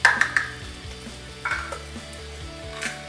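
Minced meat keema sizzles and fries in a handi as red chili is stirred in, a close, steady crackle broken by a few sharp scrapes and clinks of the spoon against the pot.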